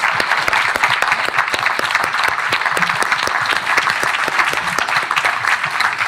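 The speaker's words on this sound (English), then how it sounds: "Please, huge applause for amazing panelists." Applause for panelists at a Doctor Honoris Causa ceremony, a hall of people clapping in a steady, close, sustained patter with sharp individual claps standing out.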